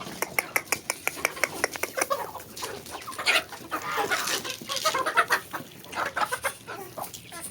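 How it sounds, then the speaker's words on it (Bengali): Chickens cluck busily after being let out of their coop in the morning: a run of sharp, rhythmic clucks at the start gives way to a denser, overlapping flock chatter, fairly close and loud, with no talk over it. "মুরগিগুলো ছেড়ে দিই।"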